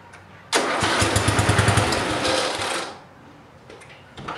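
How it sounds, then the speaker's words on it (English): A 30-year-old Cub Cadet 1110 garden tractor engine cranks and catches with a loud, rapid chattering roar, runs for about two seconds close by, then drops abruptly to a quieter idle. "about to start up a 30-year-old tractor"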